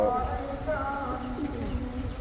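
Soft, low pigeon cooing murmurs continuously nearby, with a voice talking over it.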